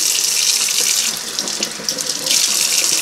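Tap water runs steadily into a kitchen sink while a salmon fillet is rinsed of scales, a close, bright splashing stream with slight shifts as the fish moves under it.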